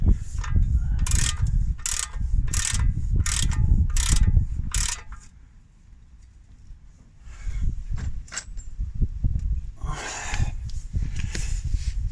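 A ratchet clicks in quick repeated bursts while tightening the oil filter back up on a Vauxhall Vectra VXR 2.8 V6 turbo, followed by a pause and then scattered clanks and rubbing of tools and metal.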